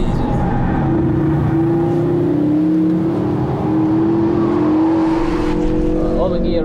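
A Ford Focus RS500 drives hard on the Nürburgring, its engine a steady loud drone heard from inside the car with the revs rising and gears changing, while someone talks over it.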